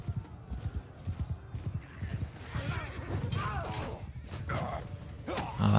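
Horses gallop with rapid clip-clop hoofbeats and occasional whinnies during a cavalry charge in the medieval combat game Mount and Blade 2: Bannerlord, with battle clatter building in the background.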